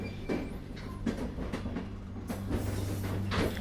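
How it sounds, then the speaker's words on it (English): A train rolls along with a steady low rumble and rhythmic clacking of wheels over rail joints, heard from inside a carriage. "And the train prepares for its return."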